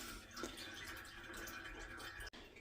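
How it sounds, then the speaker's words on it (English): Whey draining from homemade cheese curds through a colander into a pot makes a quiet, steady trickling and running of liquid throughout, faint and continuous with no talk. "they'll lose even more whey. You can hear it running out into the pot pretty good"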